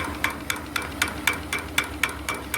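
Regular metallic knocking from a steam engine's water pump on a return flue boiler, about four beats per second, sharp and close, repeating evenly over a low mechanical hum.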